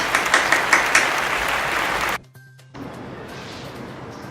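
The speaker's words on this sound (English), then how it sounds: "Give a big applause to our democratic system." Audience applause at a public speaking event, strong clapping with a few sharper claps that cuts off abruptly into near silence before faint room noise returns.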